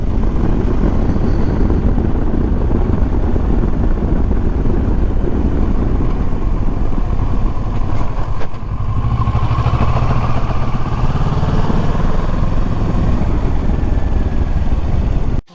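A Kawasaki Versys motorcycle rides over a gravel road toward the Yana Caves, its engine a loud, constant rumble mixed with wind roar and the crunch and clatter of gravel under the tyres.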